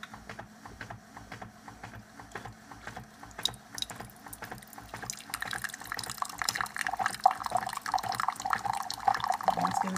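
Keurig 2.0 coffee maker dispensing hot water, a steady trickling and pouring stream over a low mechanical hum with small clicks, growing fuller toward the end, with no voices.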